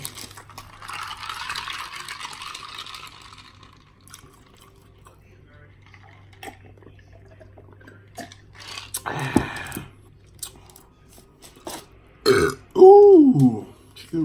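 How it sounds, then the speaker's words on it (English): A person burps loudly after drinking soda during a meal, near and close, with quiet background sounds of liquid and handling before it. "Gotta get that good burp when you drink the soda."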